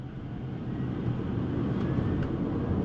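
A 2022 Hyundai Ioniq 5 RWD electric car pulling away from a complete stop, heard from inside: a steady low road and cabin rumble with a faint rising motor whine as it gains speed.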